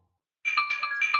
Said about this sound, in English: that was my phone giving me weather alerts.